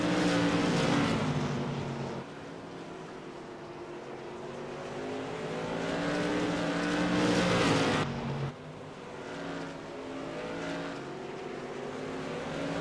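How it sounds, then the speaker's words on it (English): CRA modified race cars lapping Irwindale Speedway during a night race, loud sustained engine roar with rising and falling pitch as cars pass close by, continuous throughout. "the number 12 of Wade Cheetah is holding on as his car has gotten faster the longer this race has gone on"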